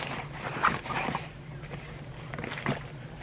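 A zipper on a compartment of a 20-inch tool bag rasps open in a couple of quick close pulls, followed by softer scraping and handling of the fabric.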